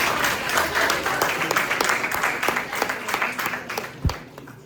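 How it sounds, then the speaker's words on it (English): A crowd claps steadily in a dense patter of hands, with a few louder claps standing out and a voice briefly heard beneath. "Guys, please keep on clapping."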